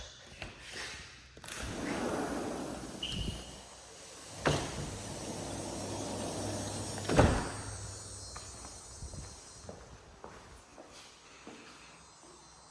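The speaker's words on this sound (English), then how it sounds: "So let's check out these telescoping doors out to this screened in porch." Telescoping sliding glass doors roll open onto a screened-in porch in a spec home, a low rumbling glide of panels with a couple of sharp thumps as they stack, fairly quiet throughout.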